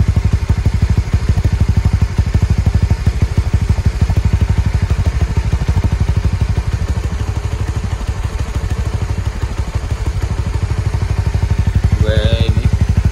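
Honda CB150R fitted with a Ninja 250fi exhaust idling at low rpm: a close, steady, deep burbling thump with a rapid even pulse, and a brief faint click near the end.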